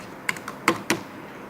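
Computer keyboard typing heard close up, a handful of sharp separate keystrokes with uneven spacing over a quiet room background.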